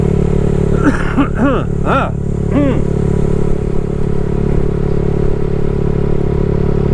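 A motorcycle carries its rider around the old Clark Air Force Base, its engine a steady, loud drone throughout, with a few rising whine-like sweeps early on and some clatter, and no clear talk over it.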